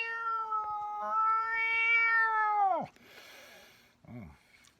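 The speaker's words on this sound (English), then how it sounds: "Meow" A single drawn-out cat meow with a rising then falling pitch, close by, followed by a brief rustle and a short squeaky sound.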